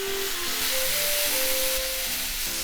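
Pork and kimchi stir-fry in sauce in a pan, giving a loud, continuous steamy hiss and sizzle that stays close and steady throughout.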